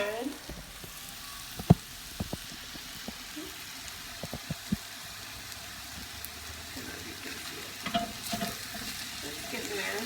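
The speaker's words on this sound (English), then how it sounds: "the meat's browning up pretty good" Meat browns in a pan with a faint, low sizzle, broken by scattered clicks and scrapes of stirring.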